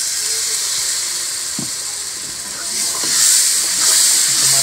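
Ginger and garlic fry in a hot pan with a steady, close sizzle and hiss throughout, swelling louder toward the end, with faint stirring knocks.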